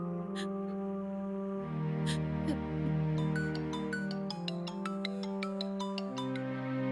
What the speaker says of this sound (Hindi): माँ सुनो, विश्वा भैया को कॉल लगाओ ना।